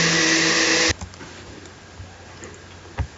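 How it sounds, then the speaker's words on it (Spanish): A kitchen blender whirs loud and steady for about a second and then stops abruptly, leaving only faint room hiss and a few small knocks. "es que estaban utilizando la licuadora"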